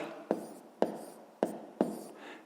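Pen or pencil writing out a sixth-grade math exercise, with four distinct scratchy strokes spaced about half a second apart, each fading quickly, close and fairly quiet with no talking.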